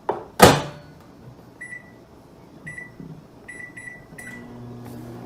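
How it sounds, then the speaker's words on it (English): Microwave oven heating ramen noodles in butter spread and beer: the door clunks shut, then a run of short electronic beeps follows before the low steady hum of the oven starts. "We're going to microwave these ramen noodles real quick like in that butter spread and that beer."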